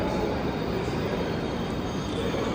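A Moscow Metro train rumbles steadily through a station, a loud, continuous broadband roar of wheels and carriages with no voices over it.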